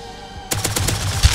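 Rapid automatic gunfire in the survival video game Rust, a burst of loud repeated shots starting abruptly after a quiet moment and continuing in a dense rattling stream with one heavier blast near the end.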